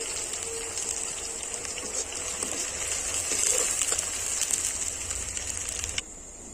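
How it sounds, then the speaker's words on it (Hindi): Chopped onions frying in hot mustard oil for a Chhattisgarh-style fish curry, a steady close sizzle and crackle with a hissing spray that holds evenly, then drops off sharply near the end. "अब हम इसमें डाल देंगे हमारा प्याज कटा हुआ। इसे हम लाल होने तक भून देंगे।"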